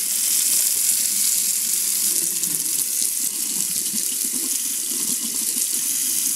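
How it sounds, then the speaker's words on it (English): Water from a tap pours steadily over a wax-coated lacrosse mesh, a continuous close hiss and splash with no talking. "I'm going to run this under some water."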